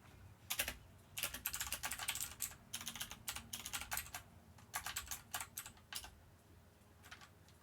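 Typing on a computer keyboard close to the microphone, quick irregular bursts of key clicks separated by brief pauses, with no talking.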